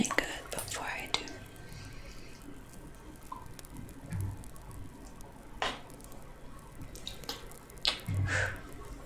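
A paintbrush swished and rinsed in a cup of water, with soft wet squishing and dripping in a quiet room, interrupted by faint whispered speech.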